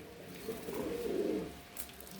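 Pigeons in a shared coop give a soft, low, rolling coo that swells in the middle and fades away, fairly close and quiet, with no voices.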